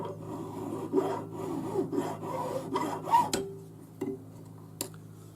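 A file rasps across the end of a metal bangle held against a hardened edge, a run of close, gritty back-and-forth strokes followed by a few separate short scrapes.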